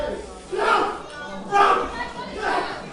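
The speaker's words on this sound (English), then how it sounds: "Crowd cheering for Mastiff" Arena crowd at a professional wrestling title match cheering in repeated swells, rising and falling in three broad waves, fairly loud and distant with a roaring, voice-filled texture.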